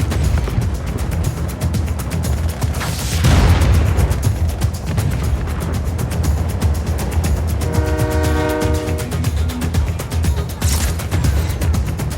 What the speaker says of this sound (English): I'm aboard the train. It's automated.